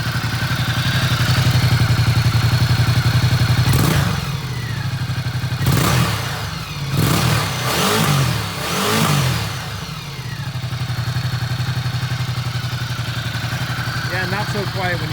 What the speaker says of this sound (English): So let me rev it out a bit for you here.